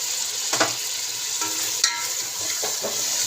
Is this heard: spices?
yes